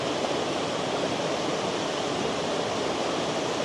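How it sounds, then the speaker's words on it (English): Steady broadband rush of a waterfall flowing over rocks, constant and close, filling the whole short stretch with no voices. "that's a waterfall with some rocks"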